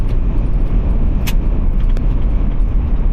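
Steady low road and engine rumble inside a car cruising at the speed limit on an empty Kansas road, continuous and fairly loud with a brief faint jingle partway through.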